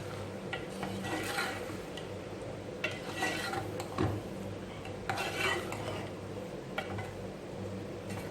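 Moong dal and spices are stirred in a pan with a spoon, giving repeated scraping and clinking strokes against the metal in irregular bursts, close and fairly loud.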